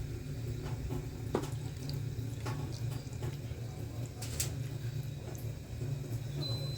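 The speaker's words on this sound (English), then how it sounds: "So I'm just going to add some more water" Water is poured into a container of dye during home fabric dyeing, a steady soft trickle and splash with faint drips, low and continuous throughout.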